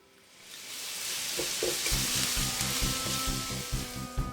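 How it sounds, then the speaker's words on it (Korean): Minced garlic sizzling in four spoons of perilla oil in a pan over medium-low heat, a bright hiss that swells up after the first second and holds steady with light stirring taps, close and loud. "팬을 중약불에 올려서 들기름 4스푼, 다진 마늘 넣고"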